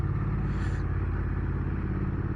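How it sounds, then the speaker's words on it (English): A standard Triumph Bonneville motorcycle engine runs steadily in road mode, a smooth continuous drone heard close up with no speech over it. "Engine feels nice and smooth."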